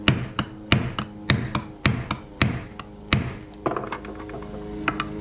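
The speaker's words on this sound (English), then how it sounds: "So we'll take one of these here and our punch, and we'll see if we can pop a hole down through the middle here." A hammer striking a punch through tough rubber in a workshop, about a dozen loud, close metallic blows in an uneven rhythm, the later strikes lighter and quicker with a faint ringing after each.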